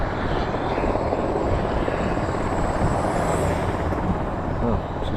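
A helicopter flies nearby over a highway, a dense, steady rotor and engine roar that stays loud and constant throughout, with traffic blending underneath.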